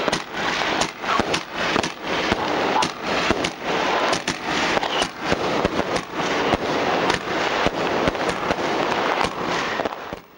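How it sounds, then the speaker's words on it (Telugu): Diwali firecrackers burst in a dense, rapid string of sharp cracks and pops, loud and continuous with no speech. "ఆ రోజు మనము టపాకాయలు కూడా కాల్చుకుంటామే"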